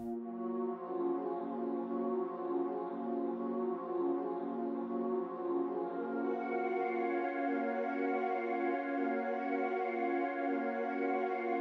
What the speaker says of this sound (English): we've just thrown on halftime and we've thrown on an EQ onto the melody. It sounds like this now.